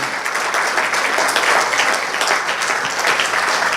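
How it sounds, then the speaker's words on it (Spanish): A church congregation gives a loud, sustained round of applause during an evening worship service, dense clapping that holds steady throughout. "Denle un buen aplauso a Él en esta hermosa noche."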